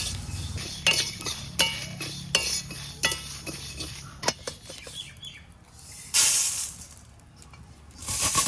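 Whole spices for a sweet-sour-spicy mango pickle dry-roasting in a pan, stirred with a metal utensil that scrapes and clinks in uneven strokes, with a few sharper rattles and hisses near the end.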